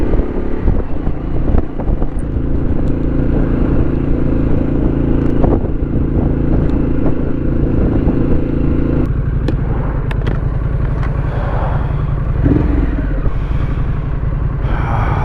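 Harley-Davidson Pan America motorcycle with an aftermarket Vance & Hines exhaust on a ride along a busy former country road, a steady low engine drone mixed with heavy wind buffeting, loud and continuous, with gear-shift shifts in pitch.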